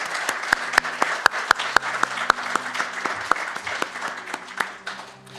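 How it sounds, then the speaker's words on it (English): A room of debate attendees claps for city council and mayor candidates in a council chamber, steady applause with sharp individual claps standing out, gradually thinning toward the end with no talk over it. "Let's give all of the candidates tonight a round of applause."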